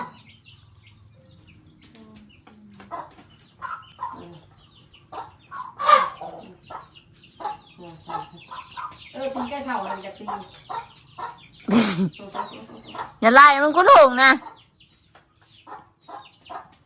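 Chickens cluck in short scattered bursts with a louder squawk or two, up close on a farm, while people talk over them.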